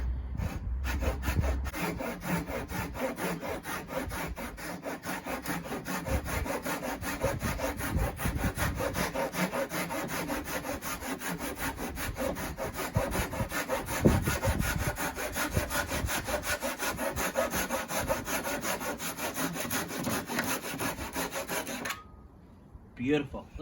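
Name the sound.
hand saw cutting wood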